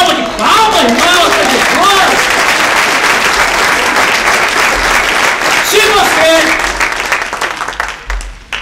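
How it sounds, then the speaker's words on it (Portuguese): Church congregation applauding loudly and continuously, dense clapping filling the space alongside voices and shouts from the worshippers, fading slightly toward the end. "Dá uma salva de palmas, irmãos"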